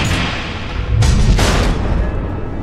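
Missiles exploding in the Batman Telltale Series game: a steady low rumble broken by two heavy booming blasts in quick succession, loud and close.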